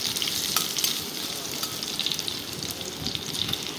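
Potatoes frying in hot oil and being stirred in a pan, a dense, continuous sizzle with light scraping from the spatula, close and steady throughout.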